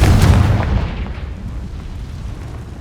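A Confringo blasting spell explodes in Hogwarts Legacy, a loud booming burst that hits at once and then rolls off into a long rumbling decay, with no voices over it.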